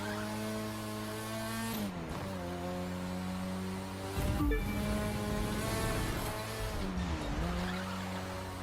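A race car in The Crew 2 roars at a steady high pitch, then drops in pitch as it brakes, with tyre squeal and skidding noise around the slowdowns, loud and close with no speech.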